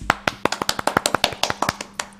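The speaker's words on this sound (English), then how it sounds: "So Jeremy, you get a round of applause." A quiz night audience gives a round of applause for the winner, with steady, sparse claps that sound like a few people clapping close by, going on alone with no talk.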